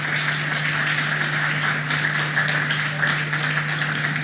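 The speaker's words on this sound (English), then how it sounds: "Give them a round of applause, please." Forum panelists at a Black Sea security conference get a round of applause from the hall, a dense, even wash of many hands clapping that holds steady, with a low mains hum beneath it.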